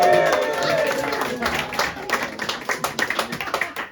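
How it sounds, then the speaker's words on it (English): Live comedy show audience in Dublin clapping and cheering, starting as a dense wash of applause that thins into separate, loosening claps toward the end. "Give it a cheer."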